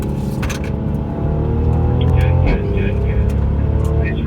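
Mercedes-Benz C43 AMG on a race track, engine note swelling as the throttle comes back on, a loud continuous rising drone with a brief dip midway, while someone talks over it.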